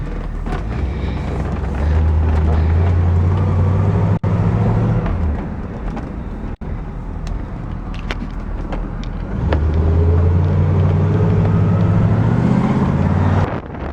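A 1970 Cutlass convertible pulls away and drives with a loud, deep engine rumble that swells and eases, heard up close from inside the car.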